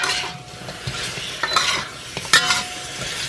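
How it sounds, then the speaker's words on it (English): Peppers being stir-fried in a pan, brisk spatula scrapes and stirring strokes over a soft sizzle, with a few metallic clinks against the pan, close and unaccompanied by talk. "I took the beef out and stir fry the peppers for a few minutes"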